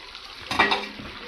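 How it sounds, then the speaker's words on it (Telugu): Tamarind juice poured into a boiling korameenu fish curry in a pan, giving a short splash and bubbling sizzle over a soft simmer, with no one speaking. "అలా ఉడుకుతున్న కూరలోకి ఇప్పుడు చింతపండు పులుసు వేసుకుందాము"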